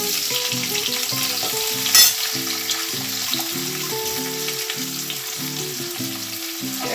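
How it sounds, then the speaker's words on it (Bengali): Onions fry in a pan for a lentil tempering, a constant sizzling hiss with a brief louder crackle near two seconds, under soft instrumental music and no speech. "ভালো করে পেঁয়াজটাকে ভাজা করে নিচ্ছি, বেশ লালচে লালচে করে ভাজা করে নেবো।"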